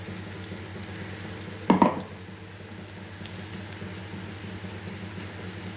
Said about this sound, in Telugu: వెల్లుల్లి కారం ముక్కలకు పట్టేలా కలుపుకోవాలి